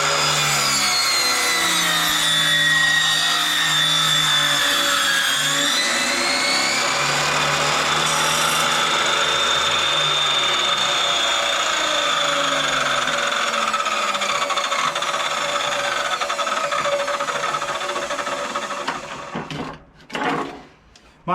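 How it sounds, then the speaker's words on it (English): A very loud power saw cuts wood at a 45-degree angle with a continuous high whine for nearly twenty seconds, then winds down abruptly and clatters near the end. "My apologies for the noise, it's a very loud saw."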